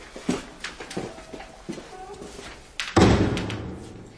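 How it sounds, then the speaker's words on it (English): A front door shuts indoors with a solid, loud thud near the end, after several soft knocks and shuffles. "Shut the front door, please, Byron."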